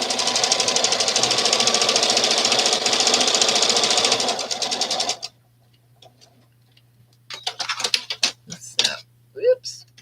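A domestic sewing machine stitching quilt fabric runs in a rapid, steady mechanical ticking burst for about five seconds, then stops; afterward brief bursts of a voice can be heard in a quiet room.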